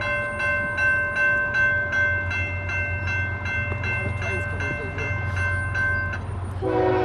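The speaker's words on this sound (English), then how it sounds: "got another westbound coming here on CSX in Ashland." A westbound CSX freight train passes at night in Ashland, its wheels clicking rhythmically over rail joints with a steady rumble and sustained horn-like tones, fairly close, before the sound shifts near the end.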